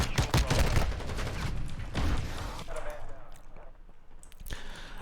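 Pistol fire from the X12 in a first-person shooter game, a dense volley of sharp reports in the first half second, then scattered shots and impacts under game ambience, with a final crack near the end.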